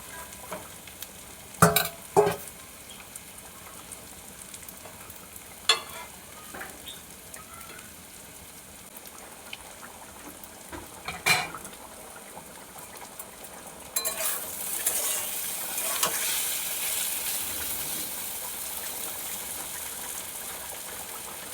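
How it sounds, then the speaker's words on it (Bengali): Taro stolons fry and sizzle in a pan while a utensil stirs and scrapes in short bursts, and the sizzle grows louder and steadier toward the end. "কচুরলতি ভাজা হয়ে গেছে, এবারে তুলে নেব।"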